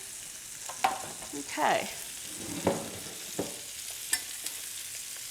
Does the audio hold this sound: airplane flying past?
no